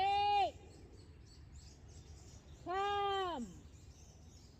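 Two clear, loud descending bird calls ring out outdoors, one at the start and another a few seconds later, over a faint background, with a person briefly calling out between them.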